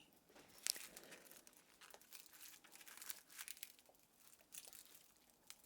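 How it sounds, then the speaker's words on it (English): Faint, close crunching and crinkling as garlic is handled, a scatter of irregular crisp crackles and snaps with quiet pauses between them. "Now listen to those crunchy garlic sounds"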